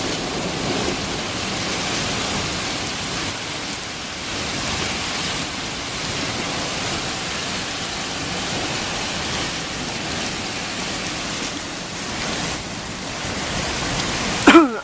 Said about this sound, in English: I mean, listen to that wind.